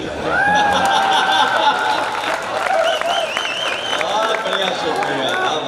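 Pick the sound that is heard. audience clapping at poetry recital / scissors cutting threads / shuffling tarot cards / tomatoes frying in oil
audience clapping at poetry recital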